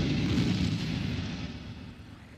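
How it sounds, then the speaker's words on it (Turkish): A huge explosion tears apart the underside of a ferry, a loud deep roaring blast that rumbles on and slowly fades over a couple of seconds, with no voices. "45 dakika sonra kararlaştırılan noktada bir patlama geminin altını parçaladı"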